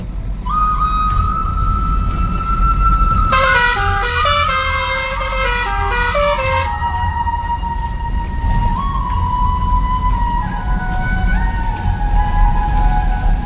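A newly fitted truck horn blares in a loud, steady, multi-toned burst lasting about three seconds, over a continuous engine drone that carries a wavering tonal whine before and after.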